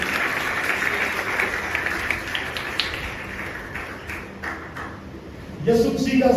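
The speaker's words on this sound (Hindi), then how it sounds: "तालियां।" Clapping from a church congregation, a crisp patter of many hands that thins and fades out, followed by a few knocks and a rising voice at the end.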